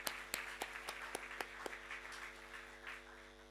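Sparse audience applause at a tech festival talk, with a handful of distinct claps in a loose rhythm, faint and distant over a steady hum, fading out after a few seconds.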